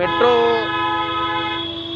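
A loud, sustained horn blares close by with rich steady tones, over the rumble of a passing metro train in Bangalore.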